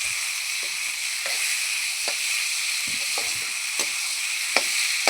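Pork with potatoes and meteka fries in a wok with a constant bright sizzle. Sharp clicks from a stirring utensil recur every second or so.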